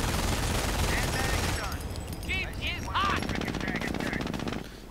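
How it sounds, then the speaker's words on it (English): Sustained machine gun fire in a World War II real-time strategy video game as a Jeep is ambushed, with rapid bursts at mid-distance under a commentator's continuous talk and game unit chatter. "ambushing the Jeep, opening up with this machine gun, doing a bit of damage"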